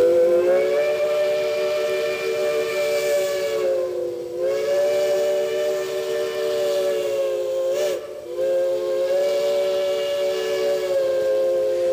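A steam locomotive on a heritage railroad sounds its whistle in a long, loud, sustained blast, briefly dipping twice before resuming, with a soft hiss of steam beneath.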